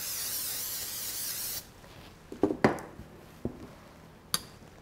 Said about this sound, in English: I'm going to give my pan a quick spray.